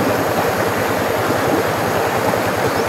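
A steady, close rush of flowing water in a canal stream, dense and unbroken, churning evenly for a few seconds without talk.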